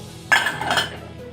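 A metal lid set down on a pot of boiling tea water, one quick clink with a short ringing tail, heard alone and close.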